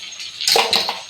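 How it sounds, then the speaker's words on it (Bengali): Hot water is poured in a short splashing burst lasting under a second, close by with a bright liquid spatter, no voices heard. "গরম জলটা দিয়ে দেবো"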